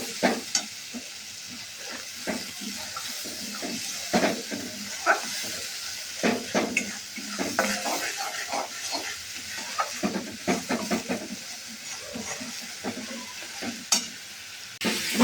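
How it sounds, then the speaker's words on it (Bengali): Spice masala for crab curry being stir-fried with a little water in a pan: frequent scraping stirs with irregular rhythmic strokes over a low sizzle, close and unaccompanied by voices. "দিয়ে মশলাটা এবারে খুব ভালো করে কষে দেবো।"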